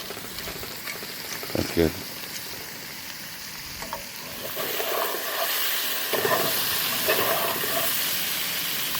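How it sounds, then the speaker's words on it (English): Pasta shells browning with ground meat, onion and garlic in a pan over a camp stove: a steady, moderately loud sizzle with stirring scrapes, a few sharper clinks, and a brief spoken remark. "fry all that just a little bit. Get the shells a little brown with the meat a little bit."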